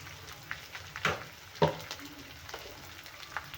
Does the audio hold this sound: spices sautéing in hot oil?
yes